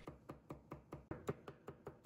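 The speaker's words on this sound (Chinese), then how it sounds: "片切好之后，再改刀剁成蒜末，蒜末我们要剁细一点" A knife mincing garlic on a cutting board, with about ten quick, evenly spaced chops heard close up against a quiet background.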